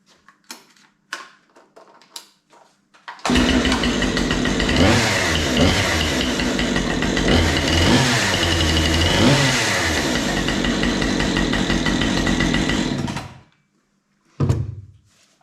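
A petrol chainsaw is pulled a few times with short rattling tugs, then fires up and runs loudly for about ten seconds with a couple of revs, cuts out, and gives one last brief burst.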